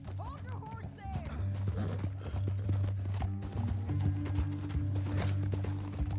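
Horse hooves clop rhythmically in Red Dead Redemption 2 gameplay, a steady galloping beat under a low engine-like drone, with voices and occasional whinny-like sounds mixed in.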